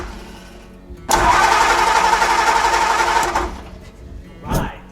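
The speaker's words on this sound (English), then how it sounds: "now we should be able to get it to crank over triggering the solenoid" A 1949 Ford truck engine is cranked over by its starter through the solenoid. A loud, fast, even whirring spin runs for about two seconds and then dies away, with brief clunks before and after.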